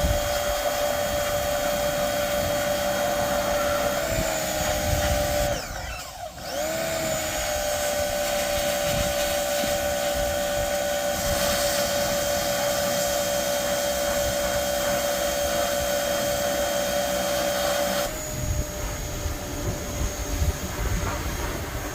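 Small power washer running steadily while cleaning a Kenworth truck frame, a continuous whining motor hum with spray noise that dips briefly midway and shifts near the end, no talk.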